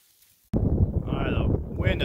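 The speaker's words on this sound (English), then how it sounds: "All right, the wind is really increasing." Strong wind buffets the microphone outdoors under a stormy, cloudy sky, starting abruptly as a loud, steady broadband roar that holds for the rest of the moment, with a faint higher whistle riding on top.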